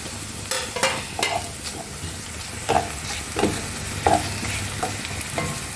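Whole spices of bay leaf, dried chilli, black peppercorns, green cardamom and cinnamon sticks are dropped into hot oil for a prawn malai curry, giving a steady sizzle with repeated sharp stirring clinks and scrapes.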